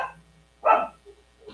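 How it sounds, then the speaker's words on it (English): Dogs give a single close, loud bark indoors, followed by faint softer sounds. "sorry guys, that's my dogs"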